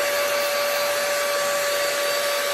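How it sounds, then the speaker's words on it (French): An ALDI hot air brush hair dryer runs with a constant, loud whooshing airflow and a steady motor whine, unbroken for the whole stretch. "C'est la première fois que j'utilise cette forme de sèche-cheveux."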